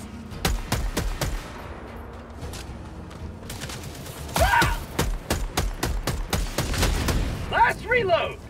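Repeated gunshots blast in quick bursts and volleys while shooting at Automatons in Helldivers 2, loud and close, with a brief quieter gap and a few grunts or groans from a voice.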